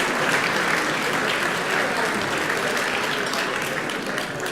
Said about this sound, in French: Vous pouvez les applaudir, s'il vous plaît